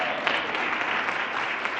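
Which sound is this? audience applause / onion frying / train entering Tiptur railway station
audience applause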